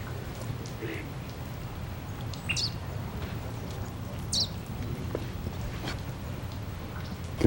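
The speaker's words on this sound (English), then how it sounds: "Oh, I hear painted redstart." Painted redstart song in the Arizona outdoors: a few brief, high chirping phrases, faint and well spaced, over a steady hissing, rain-like background.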